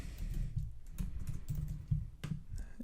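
Fast, steady typing on a computer keyboard while editing a listing, close and fairly quiet, with a dense patter of key clicks and no talking.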